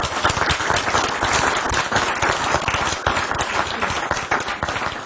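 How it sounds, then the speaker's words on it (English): Sustained audience applause for a panel discussion, dense and steady clapping from a full room at close range, lasting throughout without a break. "If we could just give them a round of applause."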